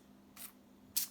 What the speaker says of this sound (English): I usually just spray it